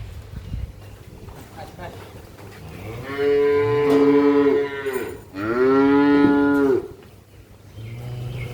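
A cow moos twice up close, two long, loud, drawn-out lowing calls separated by a short pause, with people talking in the background before and after.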